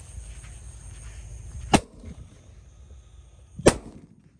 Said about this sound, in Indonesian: Selanjutnya kita nyalakan mercon elang mas